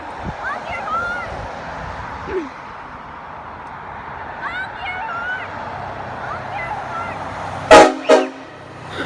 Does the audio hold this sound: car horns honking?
yes